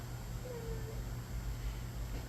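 A three-month-old rescued street kitten gives a single short, thin meow over a steady low indoor hum.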